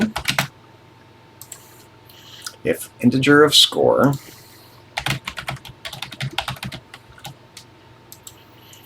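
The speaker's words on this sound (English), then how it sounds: "Let's get busy typing." Program code typed on a TI-99/4A computer keyboard, rapid close key clicks in bursts separated by pauses, while a man reads lines of code aloud between and over the typing.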